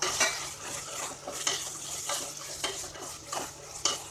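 Tomatoes sautéing with masala in a pan, a continuous sizzle and hiss broken by regular scraping strokes of a spatula against the metal, close and steady.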